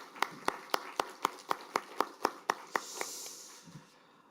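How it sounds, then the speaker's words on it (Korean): A church congregation at a Sunday service claps in a quick, even rhythm of about a dozen beats, fairly faint and slightly distant, trailing off at the end. "우리 주님께 영광의 박수 올려드리겠습니다."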